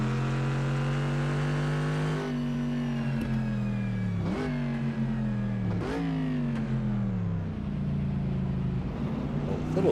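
A BMW 2002 engine in the Assetto Corsa racing game during historic sportscar qualifying: a steady buzzing drone rising in pitch through the gears, with brief dips at each upshift, loud and continuous.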